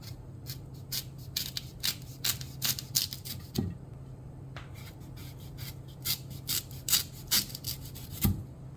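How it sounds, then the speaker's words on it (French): A knife cuts the ends off a sweet potato, making a series of close, crisp scraping and slicing strokes in an irregular rhythm, backed by a steady low hum. "je vais commencer à couper les 2 extrémités de ma patate douce"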